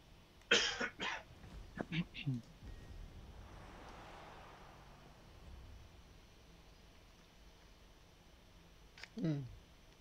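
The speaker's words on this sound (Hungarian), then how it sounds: "Ja, és még köhögök is." Several sharp coughs burst out near the start, followed by a short pause with quiet background hiss, then another cough and throat clearing near the end, all close to the microphone.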